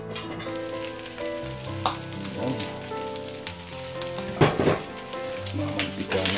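Pork menudo frying in an electric skillet, a close crackling sizzle with popping bursts of oil, steady throughout with no voices.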